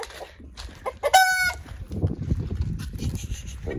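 A rooster crows loudly and close by, followed by hens clucking and murmuring softly in the background.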